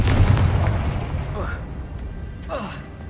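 A Confringo fire spell blasts in Hogwarts Legacy: a loud low boom opens and rumbles away, followed by a couple of brief whooshing magic effects.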